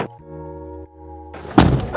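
A car door thumps shut or jars against its latch as someone tries and fails to open it, one solid close thud after a sustained engine-like drone, loud and near with no speech over it.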